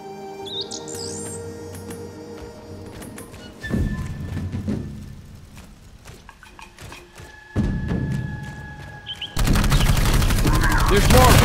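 Rapid bursts of gunfire in the video game Dark Void crackle in waves, growing into a dense, loud barrage near the end, with electronic tones and game sounds between volleys.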